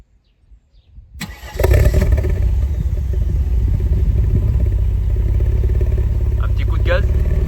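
A Mercedes W124 engine cranks briefly and catches, then settles into a loud, steady low idle close by, with a faint voice briefly heard near the end.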